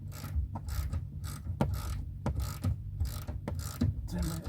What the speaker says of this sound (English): we've got a bolt that's about 10 foot long. Let's wind this in.